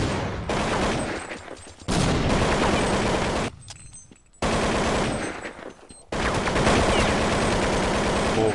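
Rapid automatic rifle sprays in a Counter-Strike match on de_inferno, loud sustained bursts separated by short pauses and quieter stretches, with no talk over it.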